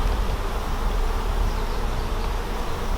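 Honeybees buzz in a dense, continuous drone during a frame-by-frame hive colony inspection, a loud, close swarm sound filling the whole stretch without talk.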